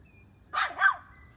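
A dog gives two quick barks, close and fairly soft, against a quiet indoor background.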